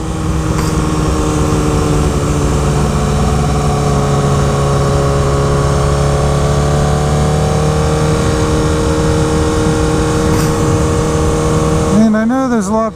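A Honda CBR1000RR Repsol sportbike engine on a ride home from a small town in the USA, a loud, steady near drone with wind rush throughout, pitch shifting slightly as it pulls, then a brief sharp rev near the end.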